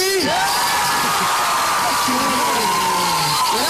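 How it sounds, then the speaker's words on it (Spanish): A cheering audience at a children's stage show keeps up a steady roar of whoops and yells, with a host's voice cutting through near the start and end. "Aplausos para Gustavo Cerati."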